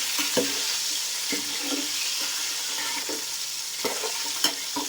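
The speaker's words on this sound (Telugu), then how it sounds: "బాగా గోల్డెన్ బ్రౌన్ కలర్ వచ్చేంత వరకు ఈ ఎగ్స్ను ఫ్రై చేద్దామండి." Eggs fry for egg pulao in an oily pan, a constant bright sizzle with occasional soft scrapes and taps as they are turned and stirred.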